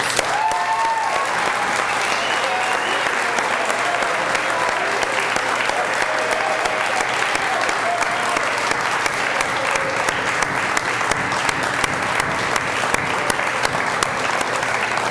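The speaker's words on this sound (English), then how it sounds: "we want to applaud all of you students for what you've done this year" An audience at a school celebration of learning applauds its students in a long, steady wash of clapping that holds even and fairly loud from start to finish, with a brief voice at the start.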